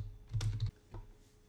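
Typing on a computer keyboard, a short cluster of quick close key clicks followed by one more tap, quiet and alone.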